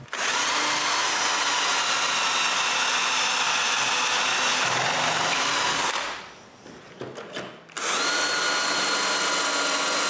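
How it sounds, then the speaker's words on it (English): A power drill boring dowel holes in wood whines steadily and loudly for several seconds, cuts out briefly with a few clicks and rattles, then starts up again at full speed. "Mark their centers and drill a dowel's holes."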